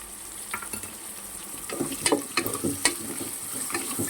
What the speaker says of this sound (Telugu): కొంచెము ఆనియన్స్ గోల్డ్ కలర్లో వచ్చేంత వరకు వేపుకోవాలి